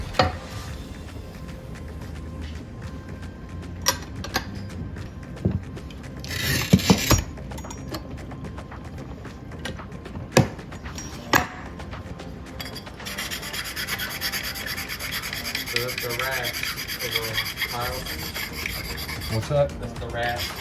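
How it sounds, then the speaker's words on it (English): A rubbing stone scrapes along the cut edge of a ceramic tile to knock off burrs, giving close, rasping strokes with a few sharp scuffs and clicks, and no talking. "you want to get the burrs of the edge of the tile off"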